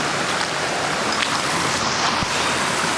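Water running over jagged rocks in a river, a steady broadband rush filling the whole clip at close range with no talking.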